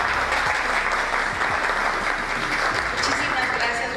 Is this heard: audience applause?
yes